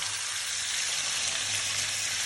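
Shrimp and vegetable curry sizzling steadily in a pan, a dense, even hiss of frying that holds at a constant level throughout with no talking.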